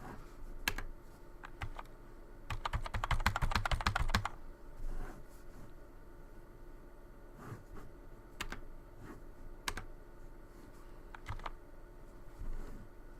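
Keys clatter on a computer keyboard during PC play of Star Wars: Knights of the Old Republic, with a dense burst of rapid typing near the start, then scattered single key presses spread across a quiet background.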